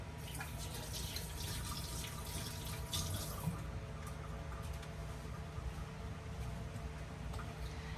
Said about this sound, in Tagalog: So, hugas lang ako ng kamay.